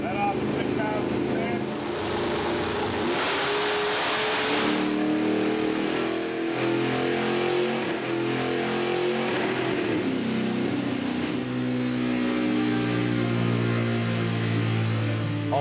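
A loud race engine revs hard and climbs to high pitch around 6,000 RPM, holding near the top before easing back, with steady wind rush throughout.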